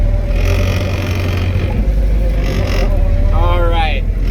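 A drift car slowly reverses with a steady low engine hum throughout, while people talk over it.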